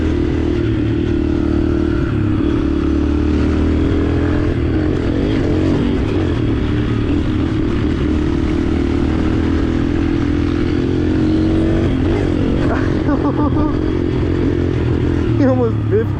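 Dirt bike engines droning steadily while riding through a gravel pit, with a continuous loud rumble and brief revving swells near the end, under people talking.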